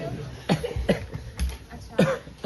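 A sick young girl with a cold coughs in a clinic, giving several short, close coughs spread across a few seconds.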